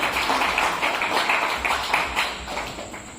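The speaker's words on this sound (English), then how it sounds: "Let us give them a round of applause for the beautiful speech presented by our brothers." An audience at a cultural evening applauds after a speech, a dense wash of many hands clapping at a steady level for a few seconds before easing off slightly.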